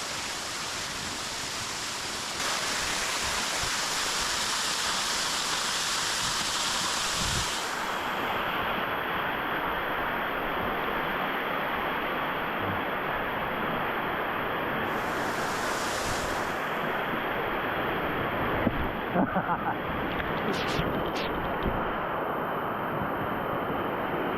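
Dense, roaring water noise fills the whole clip, a steady broadband rush from a waterfall at ZigZag Falls in Tillamook Forest, heard close while rappelling, with faint wind buffeting.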